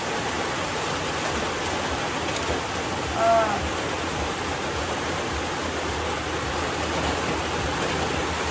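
Steady rain hisses evenly throughout, a dense wash of falling water with a faint brief voice-like sound in the middle.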